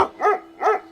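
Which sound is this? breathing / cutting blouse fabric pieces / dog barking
dog barking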